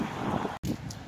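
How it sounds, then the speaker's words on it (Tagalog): Strong wind roars steadily against the microphone, broken by one brief dropout in the middle. "Lakas pa ng hangin."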